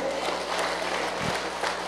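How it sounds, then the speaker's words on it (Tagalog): A church congregation applauds during a first anniversary service, a dense, steady wash of many hands clapping that fills the whole moment, indoors and close. "Pumalakpak nga po yung mapagbigay."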